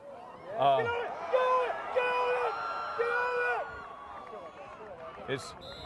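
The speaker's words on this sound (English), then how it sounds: "You heard the Pinewood coaches cheering there." Crowd cheering and whoops from coaches on the sideline at a high school football game between the Pinewood Patriots and Trinity Crusaders, rising in short bursts over general crowd noise and lasting several seconds.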